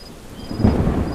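Thunderstorm with rain as a story sound effect, a deep rumble of thunder rising out of steady rain hiss and lingering over it.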